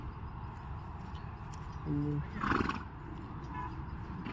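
A mare and her foal run together, and a horse gives a loud whinny over steady outdoor background noise, with a fainter neigh shortly after.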